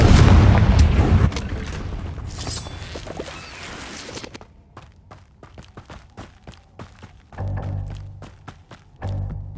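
A Confringo fire spell blasts in the Hogwarts Legacy video game, a loud booming explosion burst at first that fades into scattered crackling impacts and thuds, with further heavy hits later.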